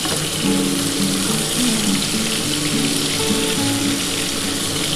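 Prawns fry in a pan with a steady, dense crackling sizzle that stays even and fairly loud throughout, with no voices.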